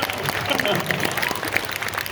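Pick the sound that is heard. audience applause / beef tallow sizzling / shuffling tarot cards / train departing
audience applause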